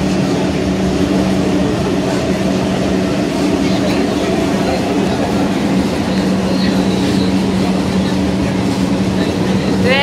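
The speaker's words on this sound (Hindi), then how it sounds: "यही मेट्रोटा अंडरग्राउंड रे चालुछे।" An underground metro train in Kolkata runs steadily, a loud continuous rumble and rolling roar with a low hum, sustained throughout with faint voices beneath.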